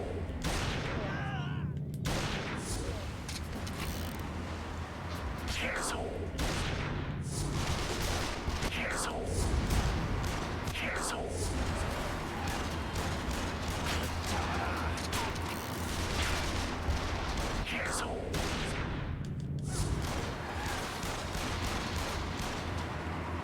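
Gunfire in the video game Yakuza Kiwami, with repeated sharp shots and booming reports over a continuous dense backdrop of game noise and music lasting many seconds.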